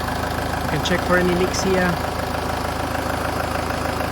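Range Rover Evoque (2013) engine idling with a steady, rhythmic mechanical hum close by, while someone talks over it for a couple of seconds.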